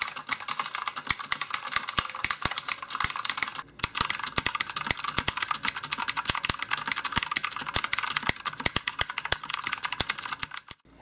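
Rapid, clicky typing on an E-Element retro mechanical keyboard with blue switches and typewriter-style keys, sharp keystrokes in quick irregular bursts and a brief pause midway.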